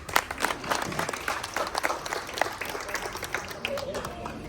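Audience applause for contestants at a dance competition in Uran, dense irregular clapping from a crowd at moderate level, with voices mixed in.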